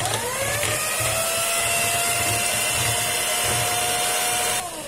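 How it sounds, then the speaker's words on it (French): An electric whisk beating two eggs in a bowl, a loud, steady high-pitched motor whine with constant rattling that cuts off near the end. "J'ai pris mon fouet électrique et je vais battre mes œufs."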